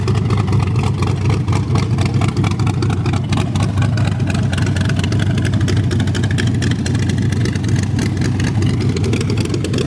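A 1923 Ford T bucket with a 383 stroker V8 (475 hp) and sprint car nose idles with a loud, steady, lumpy rumble from a hot cam, close up, with a rough pulsing shake and no talk over it.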